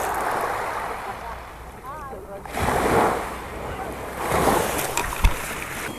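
Sea waves wash in and out on a clean sandy beach in Phuket, rising and falling in two broad surges with wind buffeting the microphone and faint voices nearby.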